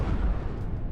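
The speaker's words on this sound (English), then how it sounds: "And then he's got the deck cannons going" Deck cannons firing in the spaceship battle game Cosmoteer, a dense, low, rumbling barrage of booms rolling together through the whole moment.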